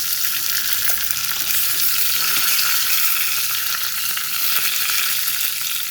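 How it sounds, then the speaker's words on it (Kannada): Curry leaves and sambar leaves hit a hot pan and sizzle loudly, a bright continuous hissing crackle that stays even and close for the whole stretch, with no talking. "ಕರಿಬೇವಿನ ಸೊಪ್ಪು ಹಾಕಿ ಸಾಂಬಾರು ಸೊಪ್ಪನ್ನು ಹಾಕಿ"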